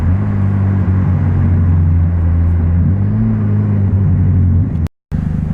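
A Mazda RX8 engine runs loud and steady with a low, droning hum and a slight shift in pitch midway, then a sudden cut to silence for a moment before the engine sound resumes.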